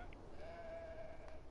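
Sheep in the video game Beyond give a single drawn-out bleat over a steady hum of ambient game background, fairly soft and a little distant.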